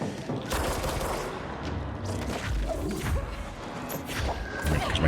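Sentry guns in the video game Control fire in dense, continuous bursts of gunfire, steady and loud across the whole stretch, with crashes and whooshes mixed in.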